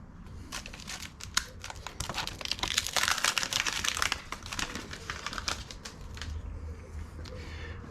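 Close, fairly quiet crinkling and crackling of a decal sticker's wrapping as it is opened, with irregular sharp rustles that grow busier midway and then thin out.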